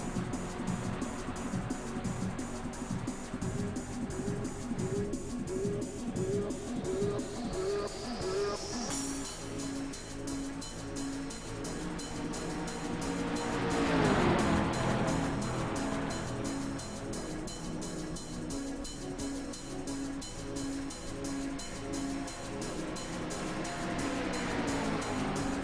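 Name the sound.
race cars racing in a sim racing video game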